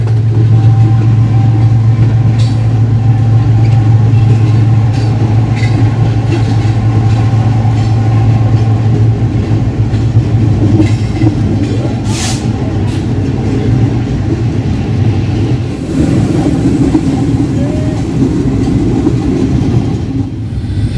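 Tezgam Express, a passenger train hauled by a GEU-40 diesel locomotive, runs at about 105 km/h into Lahore, recorded from on board as a loud steady rumble with rhythmic wheel clatter over the rails.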